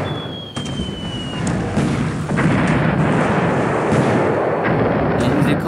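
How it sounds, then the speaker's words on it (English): Battleship bombardment artillery fire in the War in the Pacific game, a landing-support barrage on Darwin, rendered as a dense, continuous rumble of booming shots with no pauses, loud and sustained throughout. "So I have 2 battleships giving more or less landing battery"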